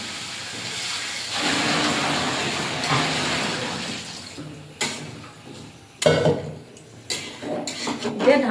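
Water poured into a hot pan of fried spice paste for a shrimp curry, giving a loud steady hiss and sizzle that rises and then breaks into sputtering bursts near the end.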